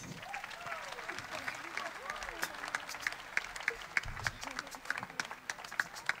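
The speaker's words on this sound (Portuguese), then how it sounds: "Vou pedir um forte aplauso para ele." Applause from a concert audience in Cape Verde greets a Cuban singer, a steady wash of many hands clapping at moderate distance, with a faint voice audible underneath.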